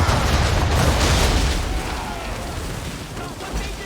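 Naval cannons fire during a ship battle in Assassin's Creed 3, a deep rumbling boom that rolls out and fades over several seconds, loud and low, with voices heard through the din.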